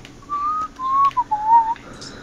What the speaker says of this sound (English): What have I said about whistling?